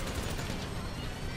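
Rapid gunfire from a shootout in GTA Online, a dense continuous barrage of shots filling a short stretch alongside game noise.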